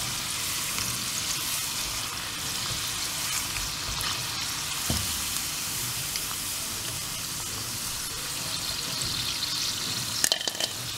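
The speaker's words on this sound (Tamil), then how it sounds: "இப்போ ரோஸ்ட் ஆகட்டும்." Cauliflower florets for gobi manchurian fry in hot oil, a continuous close crackling sizzle with a few sharper pops and a clatter near the end.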